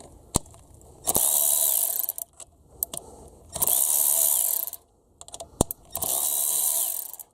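Ratchet undoing cam cover bolts on a Honda Civic EF engine, three bursts of rapid clicking about a second long each, separated by sharp metallic taps and knocks, close and clear.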